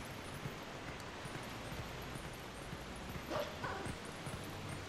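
A wolf-dog barking in the Zelda: Twilight Princess HD video game, with a few short yips over a dense, steady game-sound bed and a brief louder burst near the end.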